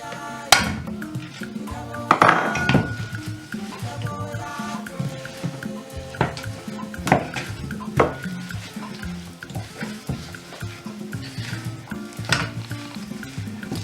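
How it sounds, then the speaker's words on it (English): Coconut flakes stirred into sugar syrup with a wooden spoon make repeated close knocks and scrapes against the pot, with tonal clinks and a soft bubbling underneath, and no talking. "Use a wooden spoon to stir it well until the coconut flakes is well covered with the syrup."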